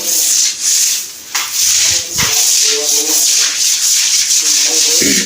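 A broom scrubs and sweeps rain-grown green algae off a floor outdoors, giving continuous close rough bristle scraping in repeated strokes, with brief pauses between passes.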